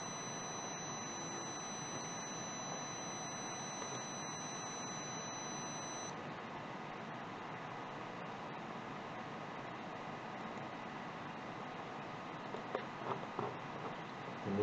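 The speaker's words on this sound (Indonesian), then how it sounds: "dengan ditandai suara buzzer dengan nada untuk LED 3" An ESP32-driven buzzer sounds a steady, thin high tone for about six seconds, signalling the third LED, quiet and alone over a faint background hiss before cutting off.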